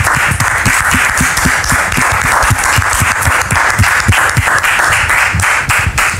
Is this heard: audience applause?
yes